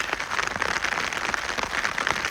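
Steady rain falling outdoors on a mountain trek in Norway's Rana highlands, a dense continuous hiss of drops pattering close by with no voices.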